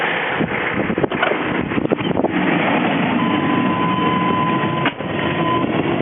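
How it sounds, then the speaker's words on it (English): A car idling with its air conditioning running, a steady close rumbling hum inside the cabin with faint knocks and rustles, no talk. "Car's a little noisy right now. Got the AC running"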